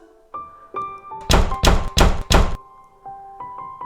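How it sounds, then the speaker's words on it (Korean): Four heavy, evenly spaced thuds of a fist pounding on a front door in a horror audio drama, loud and close, set against a low sustained eerie musical drone. "이내 현관문을 두드리는 소리만 집에 울렸고"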